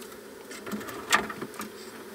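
Saskatraz honeybees buzz faintly inside a hive during a rainy installation, a soft steady hum with a few brief louder swells near the middle and no voices.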